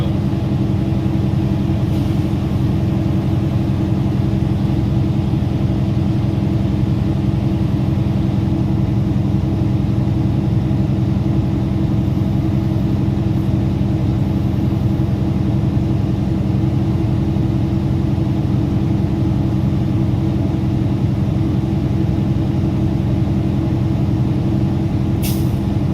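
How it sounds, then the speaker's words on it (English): Truck diesel engine idling steadily in the cab, a loud constant low drone with faint short hisses that could be the air compressor governor kicking off. "that way you can hear when the governor kicks off the compressor"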